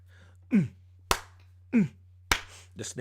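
A sparse beat alternates a low, boomy kick with a sharp, bright snare or clap hit, each sounding about twice across the clip in a steady rhythm over a constant low hum.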